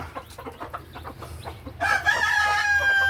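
Fayoumi chickens cluck and peck quietly at first, then a Fayoumi rooster lets out a loud, close, sustained crow that carries to the end.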